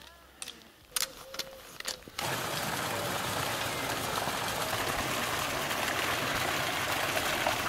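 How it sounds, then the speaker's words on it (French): Rain falling outdoors on a Sunday morning, a steady, dense broadband hiss that sets in after a couple of seconds of brief, scattered sounds and faint voices, then continues evenly to the end. "Il pleut, il pleut."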